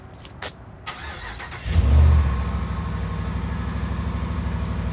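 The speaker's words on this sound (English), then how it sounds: "That's a nice sounding truck" A Chevrolet truck engine starting up and revving once, then settling into a steady, throaty idle with a regular low pulse, heard close by without talk.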